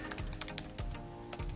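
Quiet typing on a computer keyboard, a quick run of soft, irregular key clicks recorded close with no voices.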